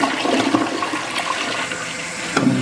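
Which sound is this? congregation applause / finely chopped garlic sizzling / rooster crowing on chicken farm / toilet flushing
toilet flushing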